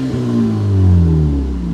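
Audi A5 with a muffler delete revving, a deep loud exhaust roar that swells and settles over under two seconds, close and raw.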